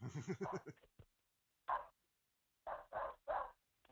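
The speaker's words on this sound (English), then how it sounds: "That is an angry dog." An agitated dog barks in four sharp, loud bursts, one alone and then three in quick succession, after a brief stretch of talk at the start.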